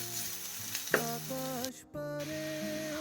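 Chopped garlic, onion and chili hiss and sizzle in hot oil in a wok, a steady close fry with a brief stir and scrape partway through, no voices.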